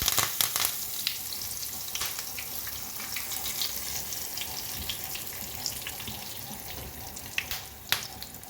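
Curry leaves fry in hot oil in a pan, giving a continuous, close frying hiss broken by sharp crackles and pops throughout, with a louder spatter burst near the end.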